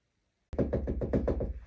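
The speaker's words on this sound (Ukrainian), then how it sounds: "Здається, хтось до нас стукає." A rapid series of about seven firm knocks on a door, close and loud, starting abruptly after silence and fading at the end.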